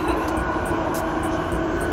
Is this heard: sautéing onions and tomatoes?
no